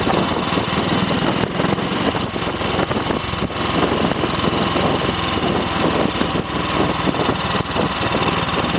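An Ariel 500 motorcycle engine runs steadily on a test ride, a loud, continuous close-up drone with mechanical vibration throughout and no talking.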